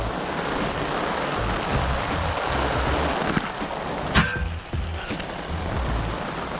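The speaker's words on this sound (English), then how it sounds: "Hopefully it's just a passing shower." Heavy rain pours down steadily in a dense, even hiss while a large adult bouncy castle is set up outdoors, with a few sharper patters and knocks partway through.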